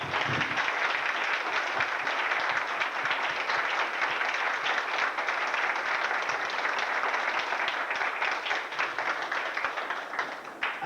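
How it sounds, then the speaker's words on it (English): Audience at the opening ceremony of a Baha'i school in Whitehorse, 2004, applauding in a steady, dense wash of clapping that holds for about eleven seconds before slightly thinning at the end. "I think that deserves a round of applause from everybody for everybody"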